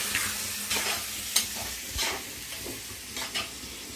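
Onion and ginger paste frying in a pan, a steady close sizzle with scraping stirring strokes at intervals, no voices.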